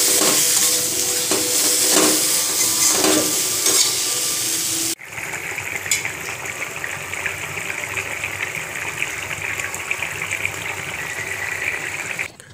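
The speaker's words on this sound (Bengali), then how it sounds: "কয়েকদিন ধরেই পেঁয়াজ রসুন আর এই যে ফুলকপি আলু ভেজে রেখেছি দিয়ে দিচ্ছি।" Already-fried cauliflower and potato tipped into a hot frying pan: a loud, dense sizzle and hiss for about five seconds, then a quieter, steadier frying sizzle with light stirring, close up and with no talking.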